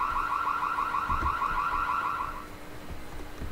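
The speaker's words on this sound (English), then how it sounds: "we friggin' tripped the alarm somehow" A warbling alarm wails in the stealth video game Splinter Cell: Chaos Theory, a rapid electronic pulsing tone over game ambience that cuts off partway through, leaving a low rumble with faint thuds.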